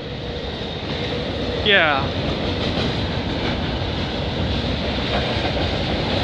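A freight train rumbles steadily along the line close by with a continuous heavy roar and rail clatter, while someone briefly speaks over it.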